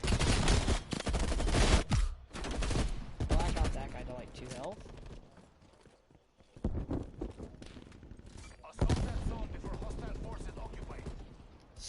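Bursts of gunfire from an M16 in the Call of Duty Cold War beta crackle in dense, loud volleys, broken by short lulls of quieter game sounds before another rapid string of shots.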